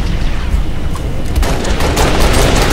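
Gunfire during sniping in the Halo: Reach video game comes through as loud, dense bursts of shots and booms in rapid succession, close and continuous across the whole moment.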